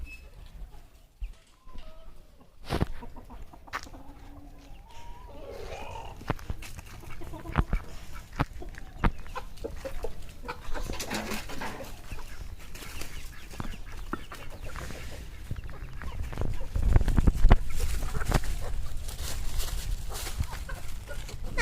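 Scattered clucking from several free-range chickens across a netted, fenced backyard, with intermittent rustles and knocks and a busier stretch near the end.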